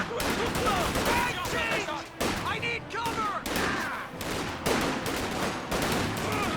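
Company of Heroes 2 battle with an MG34 and other machine guns firing in rapid overlapping bursts, loud and dense, mixed with rifle shots and distant explosions, while voices talk over the gunfire.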